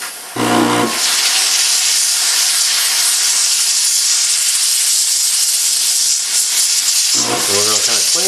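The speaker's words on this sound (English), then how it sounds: "you can kind of see the steam come out." A steam cleaner nozzle blasts steam onto gun parts in a loud, continuous hiss lasting several seconds, with brief talking just before it starts and again as it stops.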